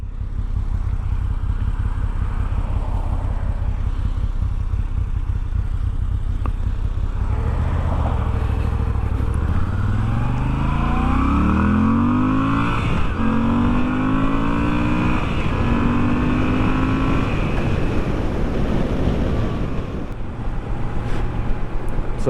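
A 2022 Moto Guzzi V7 Stone motorcycle being ridden, its engine droning loud and steady throughout, with gear changes and several rising revs as it accelerates, the rumble easing near the end.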